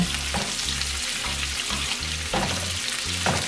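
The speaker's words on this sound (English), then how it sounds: "Being sauteed." Onions and carrots sautéing in a pan for Jamaican brown stew fish give off a continuous close sizzle and crackle of frying, steady from start to finish, with a low humming thrum pulsing underneath.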